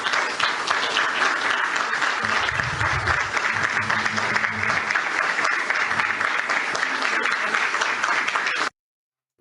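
An audience of ministers, deputies and journalists applauds Pepe Mujica in a loud, sustained burst of clapping that ends in an abrupt cut.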